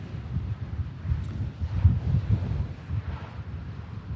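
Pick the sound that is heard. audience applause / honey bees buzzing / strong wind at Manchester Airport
strong wind at Manchester Airport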